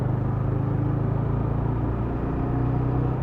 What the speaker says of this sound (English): Okay, we got some open space to rev here.